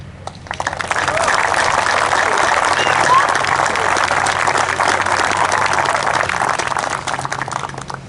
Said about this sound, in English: today, we stand and applaud our Red Hawk alumni.